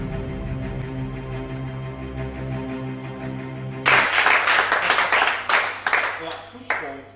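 Church congregation at a weekday worship service in Libreville bursts into loud, dense applause and clapping partway through, following a sustained stretch of sung or organ tones; a few sharp claps stand out near the end.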